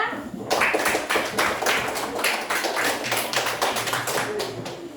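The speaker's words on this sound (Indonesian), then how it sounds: "Kita berikan aplaus untuk kelompok 2." Classroom applause for a student group after a presentation, a steady burst of many hands clapping close by, lasting throughout with no talk.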